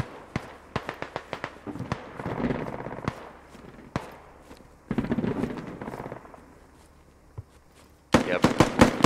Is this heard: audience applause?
no